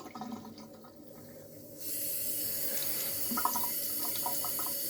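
Warm water from a tap for washing starts with a sudden steady hiss and pours continuously into a sink, close and even, with no voices.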